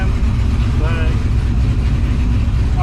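A Chevrolet squarebody C10 truck with a rowdy cam idles after a cold start, running as a loud, close, lumpy low rumble that never lets up, with a voice briefly talking over it.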